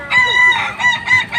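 A Kukuak Balenggek rooster crows loud and close during a rooster-crowing contest in Padang, giving one sustained crow that rises and falls in several linked segments.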